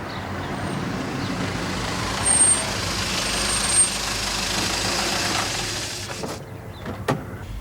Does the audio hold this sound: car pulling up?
yes